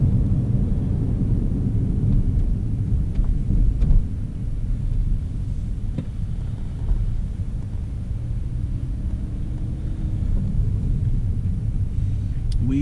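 Interior road noise inside a Mini Cooper on the move, a steady low rumbling drone with occasional faint knocks, continuous and moderately loud, with no clear talking.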